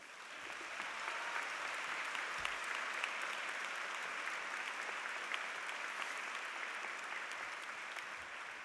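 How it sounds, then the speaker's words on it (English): A large commencement audience in a university ceremony applauding campus leaders, a steady, sustained crowd of clapping heard from a distance, fairly quiet and even throughout. "Would you please applaud the leaders of the campus?"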